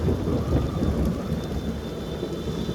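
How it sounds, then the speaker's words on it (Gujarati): Heavy rain with thunder pours over a flooded village street in Pasodara, a dense, steady roar of rain with low rolling rumbles underneath, loud and continuous throughout, with no voices. "જોરદાર કડાકાભેર વીજળી સાથે વરસાદ થઈ રહેલો છે."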